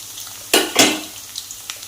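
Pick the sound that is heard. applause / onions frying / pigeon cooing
onions frying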